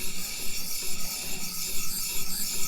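A Hinderer Firetac knife blade rubs in circular strokes across a 400 grit medium-fine sharpener, giving a steady, close rasping scrape with a gently pulsing rhythm and no talk.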